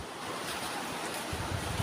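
Sea waves break near an abandoned beach, a constant hissing roar of surf with some low rumbling swells toward the end, no talking.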